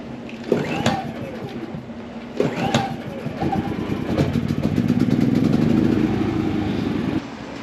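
Predator 3500 inverter generator engine running steadily after a pull start, a continuous mid-pitched hum under intermittent nearby speech, with a few sharp knocks early on before the drone settles and then cuts off near the end.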